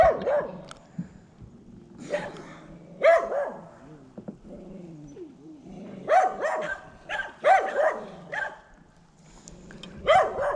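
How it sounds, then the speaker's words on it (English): Several dogs bark in bursts, some sharp yips mixed with deeper barks and a low growl, fairly close with quiet gaps between volleys. "Yeah, we got some dogs over here."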